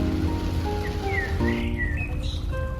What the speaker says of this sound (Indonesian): Ini ternyata hujannya deras sekali ya